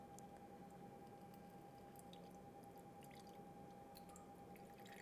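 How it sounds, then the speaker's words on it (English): Fire cider strained through cheesecloth into a pitcher, giving soft continuous squishing and dripping of liquid, close and steady at low level with no talk. "we are going to strain it out with our cheesecloth into"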